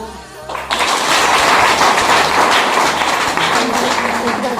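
A crowd breaks into loud, sustained applause for women being honoured at a gathering, a dense wash of clapping that starts abruptly after a quieter moment and holds steady.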